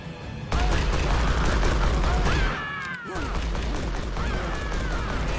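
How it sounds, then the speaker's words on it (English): Pistol fire in the video game Evil Dead Regeneration, a dense burst of loud shots and clattering impacts, a short lull, then more rapid fire with other game effects. "Pistol's not bad, it's just got no stopping power."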